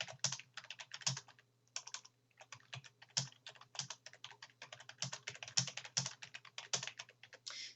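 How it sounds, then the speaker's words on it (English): Fingers type quickly on a computer keyboard in quick, uneven bursts of light key clicks with short pauses, heard up close and quiet, with a low steady hum beneath. "whatever I type will not be interpreted as a command"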